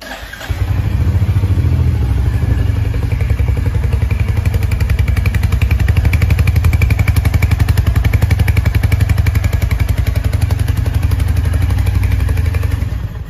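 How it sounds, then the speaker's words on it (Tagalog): A 2023 Royal Enfield Hunter 350 motorcycle starts up and settles into a steady, loud thumping single-cylinder idle close to the microphone, running evenly for over ten seconds with no one speaking. "Ngayon ay susubukan nating i-start ang motorsiklo para marinig natin kung gaano kaganda ang tunog nito."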